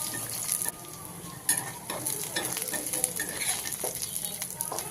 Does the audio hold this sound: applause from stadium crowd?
no